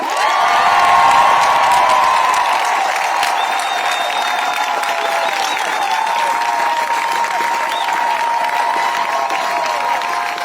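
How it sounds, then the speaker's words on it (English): A rally crowd at an abortion-rights event in North Carolina applauds and cheers loudly and steadily, with whoops and shouts rising over dense, sustained clapping. "Please give me a warm round of applause for Attorney General Josh Dodd."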